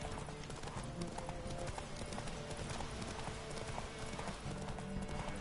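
Horse hooves clip-clop steadily in The Witcher video game as white horses ride along, with a faint whinny and a dense, continuous game soundscape.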